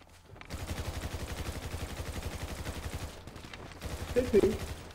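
Rapid automatic gunfire from GTA 5 Online, played in first person on PS4, rattles in a dense sustained burst, then pauses and resumes with a few heavier shots, near and loud.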